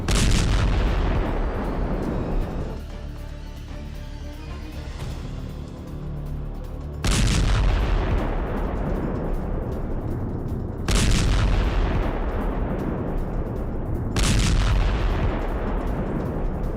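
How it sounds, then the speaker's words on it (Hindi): Gunfire and explosions from an IDF attack in Beit Hanoun, several loud booming blasts a few seconds apart, each sharp onset followed by a long rolling, rumbling decay. "बेत हेनोन में आईडीएफ का अटैक।"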